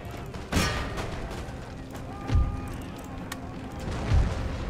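Cannon and artillery fire in an Empire: Total War battle, three deep booming blasts spaced about two seconds apart over a constant rumble of distant battle noise.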